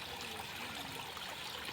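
Water flowing steadily beside a temple stairway, a constant rushing trickle heard close and even throughout, with no voices.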